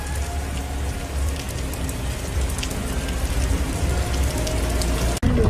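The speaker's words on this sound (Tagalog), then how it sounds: "Umuulan dyan." Steady rain pours down, a dense continuous hiss of drops on hard surfaces, loud and close, with a brief dropout near the end.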